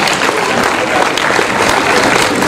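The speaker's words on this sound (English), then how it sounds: "Clap, clap, clap for her." An audience claps at an SME fair prize announcement, dense continuous applause that stays loud and steady from start to finish.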